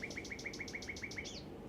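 Nightingale singing at night, a fast run of about ten repeated bright whistled notes ending in a rising flourish, heard clearly over a low background rumble.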